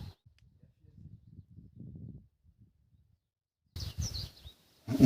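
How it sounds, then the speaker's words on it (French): Birds chirp faintly in the quiet desert oasis of En Gedi, scattered calls breaking near-silence, with soft voices murmuring nearby and a brief burst of louder sound toward the end. "juste les oiseaux."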